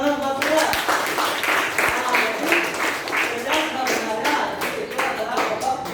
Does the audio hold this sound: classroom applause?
yes